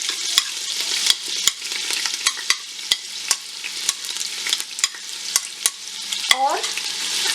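Chopped large onion frying in hot oil for aloo gosht, a steady crackling sizzle under sharp, regular scrapes of a stirring spoon, close and fairly loud.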